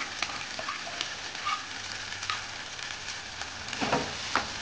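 Pea paste frying in white oil in a pan for pea-stuffed paratha, a close, steady sizzle with scattered crackles and pops that sharpen toward the end.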